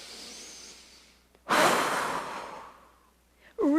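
A forceful breath is blown out hard in one long whoosh, like blowing out birthday candles during yoga breathing practice. A quieter breath comes before it, and a voice begins at the end.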